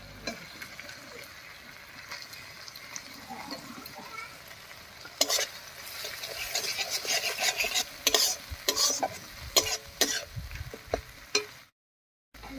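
Ground dried chilli, cumin, ginger and garlic paste sizzles and fries with tomato in a pan, stirred with scraping strokes that grow busier midway, then cuts off abruptly near the end.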